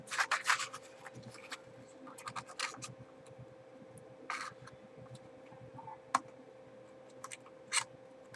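Scissors snipping through sticky tape and paper while trimming a flap mini album, a run of short dry scratchy cuts and rustles close by, with quieter gaps and a few isolated clicks.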